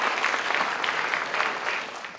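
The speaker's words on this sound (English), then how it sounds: "Contest winners, thank your parents with a round of applause." An audience claps for parents at a 2012 neighborhood poster contest awards event, a steady, dense round of applause filling the short stretch at moderate loudness without speech.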